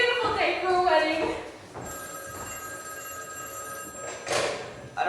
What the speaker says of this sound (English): I don't want the number being ruined by our ringing telephone.